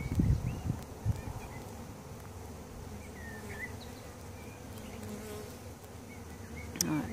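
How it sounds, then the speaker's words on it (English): Bees buzzing steadily around a hive in a tree, a faint continuous droning hum with brief rustling and handling noises near the start and end. "I'm going to shake some bees in."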